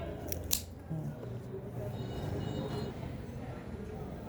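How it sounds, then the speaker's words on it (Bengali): A quick snip cutting off part of a plant before it is potted, two sharp crisp cuts near the start, close up, followed by soft rustling and handling under a steady background rumble. "রোপণ করার আগে এই অংশটি একটি কেটে দিচ্ছি"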